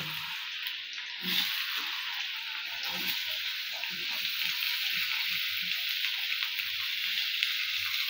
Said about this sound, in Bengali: দেখো বন্ধুরা, কড়া বসিয়ে দিয়েছি, তেলটা গরম হয়ে গেছে। তার মধ্যে আমি আলু কেটে রেখেছি ছোটো ছোটো করে, সেই আলুগুলো দিয়ে দিচ্ছি।